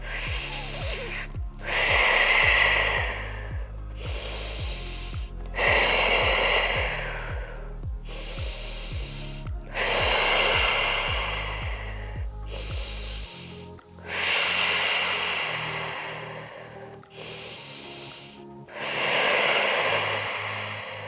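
Deep, slow breaths cycle in and out during a core-engagement hold in pregnancy exercise, about five loud, close inhale-exhale rounds with breathy, slightly wheezy exhales under steady low music.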